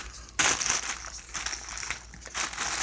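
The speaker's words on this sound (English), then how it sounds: "Open the bag like so." A plastic bag is opened and pulled over a tattoo machine tip, giving close, crisp crinkling and crumpling that comes in several bursts with short pauses between them.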